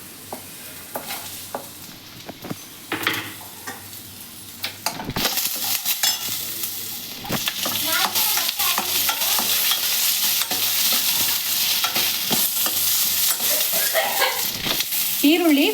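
Onion, garlic and ginger fry in oil in a pan for paneer butter masala, starting with scattered stirring and scraping, then settling into a loud, continuous close sizzle.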